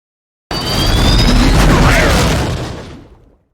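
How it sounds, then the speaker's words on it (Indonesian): A deep, roaring explosion blast from an aircraft engine fan in the film Cast Away swells and slowly fades over a few seconds, loud and rumbling with a harsh, noisy texture. "ia terlempar beberapa kilometer karena ledakan dari kipas angin pesawat"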